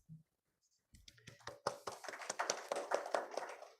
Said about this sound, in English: Claps for the rector, please.